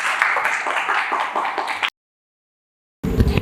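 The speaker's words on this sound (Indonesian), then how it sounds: "beri tepuk tangan dulu" Classroom audience of teachers and students in Indonesia clapping for a presenting group, a dense burst of applause that cuts out abruptly, then returns briefly after a gap of silence.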